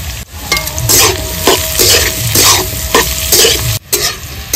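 Beans, capsicum and other vegetables stir-fried in a pan for fried rice, with loud crackling sizzle broken by repeated scraping strokes of a spatula and a short pause partway through.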